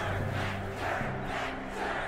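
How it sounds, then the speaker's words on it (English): A large city crowd in the Ni no Kuni II video game shouts and roars together in a loud, dense, sustained mass of voices, swelling in waves over a low droning tone. "It's the crowd. It's the people of the city."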